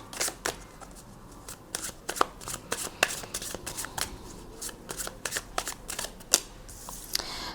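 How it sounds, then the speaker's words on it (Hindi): Tarot cards shuffled by hand, a rapid run of crisp close riffling snaps and slaps over several seconds, with no voice present. "मैं 3 कार्ड्स आपके निकालूंगी"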